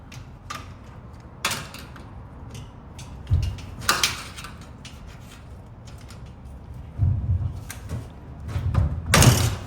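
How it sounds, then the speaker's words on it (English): A garage door fitted with a torsion spring system is worked shut, bringing scattered knocks, rubbing and a few heavy thuds and bangs against a quiet background. "so we can shut the door"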